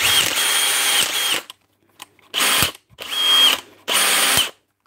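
A power drill set to drill-only mode runs in three or four loud, close bursts of steady whirring, each lasting about a second, with brief silent pauses between the runs.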